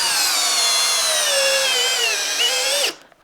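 A Flex compact power drill whines steadily for about three seconds under load, pitch sagging slightly as it drives a 6-inch timber screw, then cuts off abruptly.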